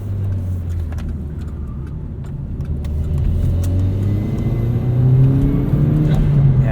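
A 2009 Chevrolet Cobalt SS accelerates with a steady engine drone heard from inside the cabin, its pitch rising gradually as revs climb, under constant road rumble.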